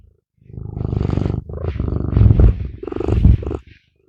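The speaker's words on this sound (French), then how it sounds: "ronron thérapie offert par Nala" Nala the cat purrs loudly and close, in rhythmic rumbling phrases separated by short breaths, with no other sound around it.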